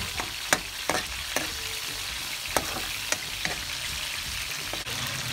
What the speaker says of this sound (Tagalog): Tapos, hahaluin lang natin siya. Ayan, haluin lang natin